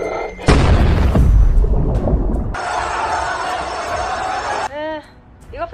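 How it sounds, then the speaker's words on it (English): A sudden broadband blast bursts out and rumbles for a couple of seconds, followed by a sustained bright hiss and then warbling tones. "what happened was only a small explosion"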